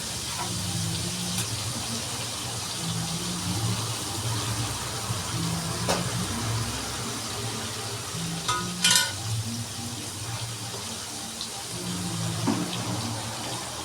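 Kootu curry ingredients, a South Indian mixed vegetable dish, stirred together in a pan, giving a soft steady sizzle and bubbling with occasional spoon scrapes and clinks against the pan.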